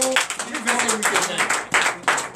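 Church congregation clapping during a Sunday worship service, a brisk burst of many hands mixed with voices and cheering from the crowd.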